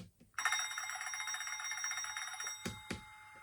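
A model Hornby DB Class 60 locomotive sounds an electronic bell function, a sustained ringing tone that holds for about two seconds, followed by two short sharp clicks.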